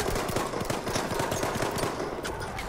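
Gun firing in Battlefield 1, a continuous rapid burst of automatic shots, loud and close over dense battlefield noise.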